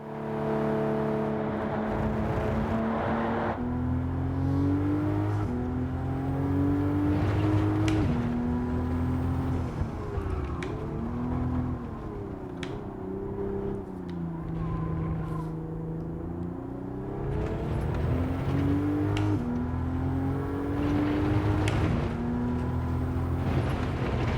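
A race car in Gran Turismo 7 with a steady, loud engine drone whose pitch climbs with acceleration and drops under braking into corners, continuous throughout with no talking.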